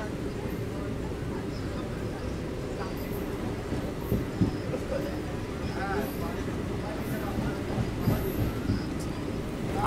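Sealdah–Katwa local train running near Bansberia, a continuous heavy rumble of wheels on rails with rhythmic clatter and occasional faint squeals, steady and close throughout.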